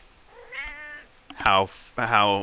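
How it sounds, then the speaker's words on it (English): A pet cat lets out three meows in quick succession, the first soft and drawn out, the next two louder and sharper, close by with no other sound around them. "Everybody loves the kitty cat."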